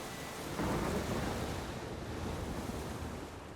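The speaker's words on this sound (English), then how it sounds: "A storm, damn it." A thunderstorm in the video game The Witcher 3 brings a steady, dense wash of wind and rain with a low rolling rumble swelling slightly early on, fairly faint and with no talking.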